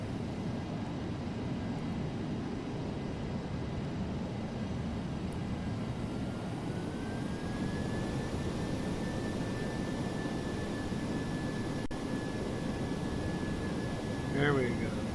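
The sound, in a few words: DC-8 jet engines idling in Flight Simulator X video game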